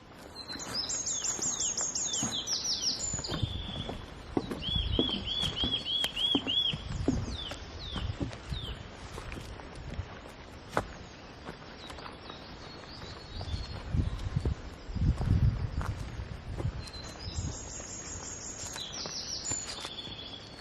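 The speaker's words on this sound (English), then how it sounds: "that incredibly strident song, now that's a nuthatch" A nuthatch sings in a dawn chorus in Cumbria, its clear repeated notes mixed with other distant bird calls and chirps over steady outdoor background noise.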